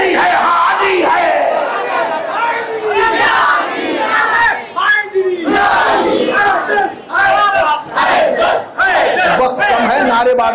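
A crowd at a religious sermon gathering in Kurla West shouts slogans in loud, rhythmic bursts that rise and dip for about ten seconds, close and dense with many voices together.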